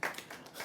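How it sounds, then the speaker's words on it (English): Hands clap a few times in quick succession, light close slaps in a brief burst during a talk on marketing and money. "that's a good place to clap, isn't it?"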